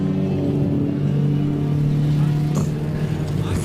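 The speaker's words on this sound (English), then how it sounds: "You can hear that car battling to get going" A race car at an endurance series round struggles to get going after a fuel spill, its engine rumbling and labouring under a commentator's voice, with a brief sharp noise partway through.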